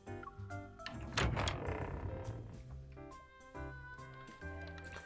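A door opens in a voiced visual novel game: a single soft thunk and slide, then a faint, fading rumble, heard over a quiet background of musical tones.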